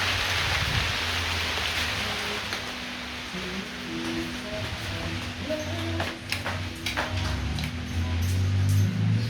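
Steady rain falls in Argentina, a dense hiss with scattered drips and taps on nearby surfaces, continuous and fairly close throughout.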